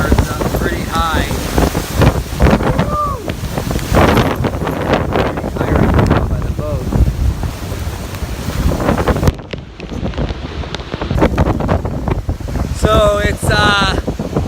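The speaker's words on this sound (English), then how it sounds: "really windy down here by the water" Strong hurricane wind gusts roar across a waterfront near a dock during Hurricane Irma, buffeting the microphone with loud rumbling noise while someone speaks briefly over it.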